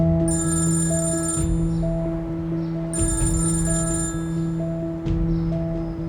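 A telephone rings in a home scene of an Urdu-dubbed drama, steady electronic trilling bursts repeating in a regular pattern over a low continuous hum, close and loud, with no one speaking.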